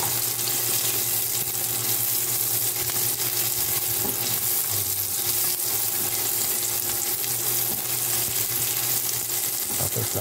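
Chopped garlic and onions sautéing in a pan for sinigang na salmon belly, a steady, close sizzle and hiss with occasional stirring scrapes running unbroken throughout.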